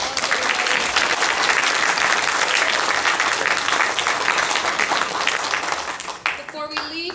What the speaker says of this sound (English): So let's give them a round of applause, everybody.